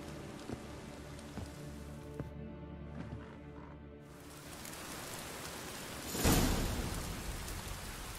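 Rain falls in the video game The Witcher 3: Wild Hunt, a steady soft patter with a louder crashing burst near the end, with no voices heard.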